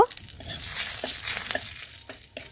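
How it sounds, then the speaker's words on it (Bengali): Two dry red chillies, a bay leaf and five-spice crackle in hot oil left over from frying potatoes, making a close, busy sizzle with faint popping and a few light stirring taps. "এখন ওই তেলে ফড়ন দিলাম দুটো শুকনো লঙ্কা তেজপাতা আর পাঁচ ফড়ন একটু ভালোভাবে ভেজে নেব"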